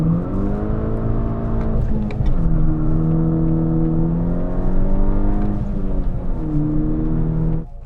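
A Volkswagen MK6 GTI with a Rev9 catback exhaust accelerates hard from 0 to 60 mph, its loud engine climbing through the gears with clear drops at each shift, sounding close and continuous.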